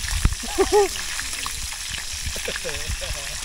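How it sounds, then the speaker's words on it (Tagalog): Galunggong fish frying in a pan at a mountain campsite in Bangkong Kahoy Valley, Mt Banahaw, a steady close sizzle with brief pops, with voices talking over it. "Ganito po kami magprito ng galunggong."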